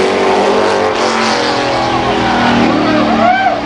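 Bill Elliott's Ford Thunderbird and a rival car roar through a short-track match race at Columbus Motor Speedway in 1990. The engines snarl loud and close, with pitch rising and falling, under an announcer's voice.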